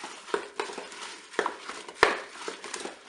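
Apple and orange compote with vanilla sugar being stirred in a Cookeo pot, close-up scraping and soft knocks of a utensil against the bowl in an irregular rhythm, with one sharper clink, no talking.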